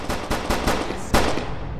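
A rapid string of loud video game gunshots cracks out, about five sharp bursts in quick succession, close and punchy with no voices.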